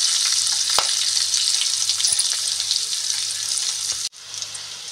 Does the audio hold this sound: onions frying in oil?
yes